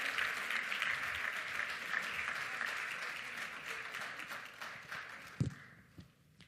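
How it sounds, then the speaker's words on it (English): Round of applause for a student at a school ceremony, a full audience clapping steadily and loudly before trailing off near the end. "Let's give Madison, our intellectual warrior with a bright future, one more round of applause"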